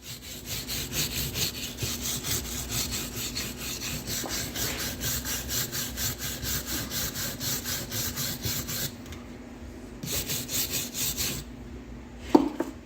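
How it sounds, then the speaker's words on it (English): A wire brush scrubs loose, flaky carbon off parts of a 351W engine short block for a 1968 Galaxie 500 convertible. The scraping runs in a steady, close, rhythmic back-and-forth for most of the stretch, then breaks off with a few short strokes and a sharp knock near the end. "We just want to get any of this kind of loose, flaky crap off. Get the old wire brush."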